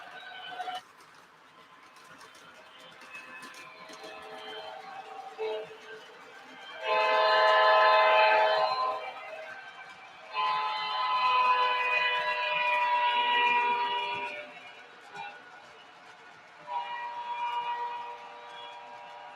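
An MTH model train passes with its Doppler sound effect, a horn-like tone that swells loudly in two long blasts and shifts in pitch, then a shorter blast, with running noise fading between and no talking.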